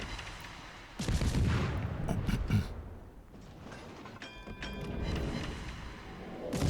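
Naval guns on the Tashkent destroyer fire in the World of Warships video game: a cluster of heavy booming shots, then quieter mechanical clanks and rumble, with no talk.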